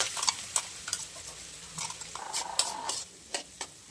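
Drumstick curry gets stirred in a pan, a spoon tapping and scraping the metal in quick irregular clicks over a faint low sizzle.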